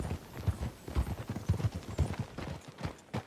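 Horse hooves clip-clop at a steady, even trot on a dirt road in Red Dead Redemption 2, close and distinct, with a brief whinny near the end.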